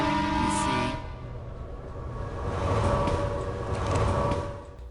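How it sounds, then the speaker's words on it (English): A train rumbles past in the video game Red Faction 2, a low, rolling roar that swells and fades twice after a brief higher tone at the start. "This train is going to be a constant companion for pretty much the rest of the level."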